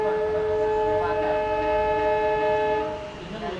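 A long, loud train horn blares steadily as a train pulls out of Pattikkad railway station in Kerala, then cuts off, leaving a rumbling carriage noise.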